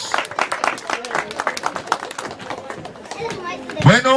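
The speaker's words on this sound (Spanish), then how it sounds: "ese aplauso bien fuerte para Teófilo Mesa por los 50 años." Guests at a 50th birthday party applaud with a steady, lively patter of clapping, while voices and crowd chatter mix in throughout.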